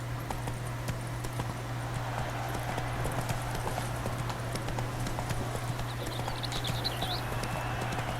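Horse hooves trotting in The Witcher 3, a steady rhythmic clip-clop heard close and continuous over a low ambient hum, with no talking.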